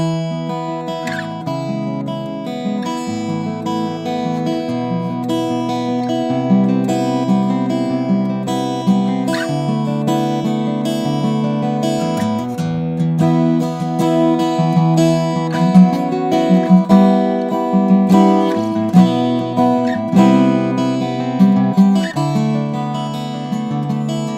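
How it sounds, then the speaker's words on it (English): Strummed and picked guitar chords shift in shape over ringing open strings that drone underneath, played steadily and close with a rich, sustained tone. "These are called shape chords that we're going to move around."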